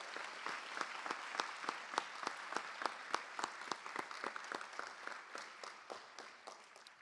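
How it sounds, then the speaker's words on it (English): Audience applause at a school board meeting, a steady patter of individual claps from a modest crowd, distinct sharp hand strikes over several seconds, fairly faint and distant. "Let's give them a round of applause."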